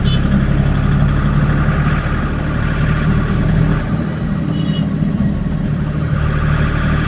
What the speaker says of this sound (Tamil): காலையில் தான் டிராஃபிக்காக இருக்காதுன்னு பார்த்தா காலையில் தாங்க டிராஃபிக்காகவே இருக்குது.